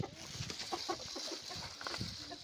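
Aseel roosters cluck in a cage, several short, soft calls scattered close by over a low background hum.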